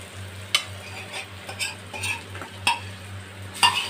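A spoon stirs boiled moong dal with fish head in a pan with onion, tomato, ginger and garlic, giving repeated scraping strokes and sharp metallic clinks over a low simmering sizzle, close up and without talk.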